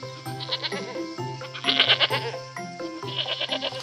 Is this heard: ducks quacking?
no